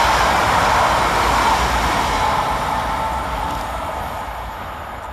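Transport for Wales class 197 units 197.010 and 197.021 pass through Eccles station on a Manchester Airport to Llandudno North service, a loud steady rumble of wheels and engine that slowly fades as the train moves away.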